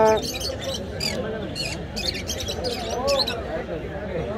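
A talking myna bird at a crowded market lets out a string of sharp, repeated chirps and squeaks close by, with people talking underneath.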